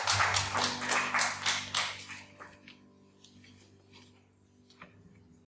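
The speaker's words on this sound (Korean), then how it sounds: "이 시간에 주님께 영광의 박수 올리겠습니다." A church congregation claps together in praise, a dense burst of many hands for about two seconds that then thins to a few scattered claps over a low sustained hum.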